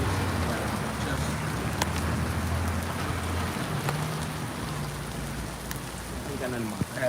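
Steady rain falling on surfaces outdoors, a dense continuous hiss with scattered drops and a low rumble beneath, constant loudness across the whole stretch with faint background activity.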